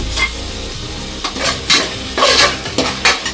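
Mushroom rice being stirred with a spoon in a pan after salt goes in, with a steady low sizzle and several scraping stir strokes close by.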